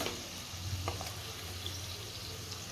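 Modak frying in oil, a steady low hiss and faint bubbling sizzle heard quietly at a distance, with no talking.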